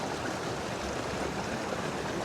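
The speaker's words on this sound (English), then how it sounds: "the water that is coming through the smaller channel" Creek water rushing through a smaller channel in Kings Canyon near Carson City, a dense, steady broadband wash, close and continuous, with no voices.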